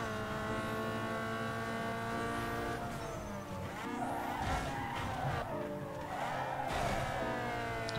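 A race car in Need for Speed Underground 2 roars at high revs as it accelerates through the higher gears, the engine tone rising and shifting, with tire squeals mixed in.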